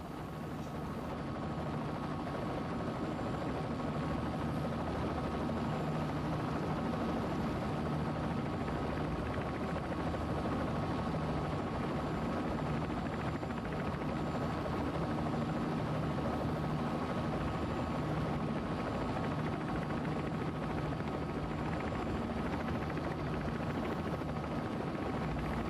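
Simulated helicopter in a flight simulator game on a Los Angeles heli-lane route from Van Nuys to the LAPD Hooper downtown helipad, a steady, loud rotor thrum and turbine whine droning on without a break for the whole stretch.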